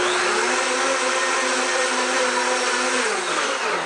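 A Blendtec blender, filled with soap and water for cleaning, whirs loudly in continuous bursts, its motor pitch dropping slightly near the end as it winds down.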